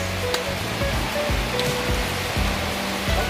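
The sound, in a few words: heavy rain outside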